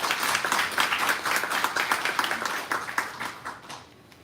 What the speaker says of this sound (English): we should first of all give a round of applause and congratulations to Namibia